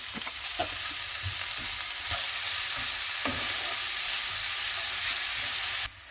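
Diced bacon and onions sizzle in a pan with a steady, close frying hiss, broken by a few sharp utensil scrapes and taps, until the sound cuts off near the end; no talking.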